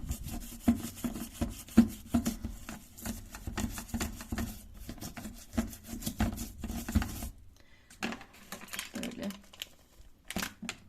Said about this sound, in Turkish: Bakın şuradaki sarılıklarımızda ovalayalım. Böyle güzelce fırçalayalım.